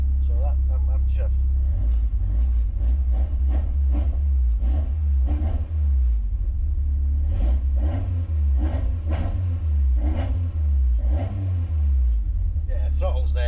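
A Peugeot 205 GTi Mi16 engine idling with a deep rumble and blipped repeatedly in short revs, close and loud, while people talk over it.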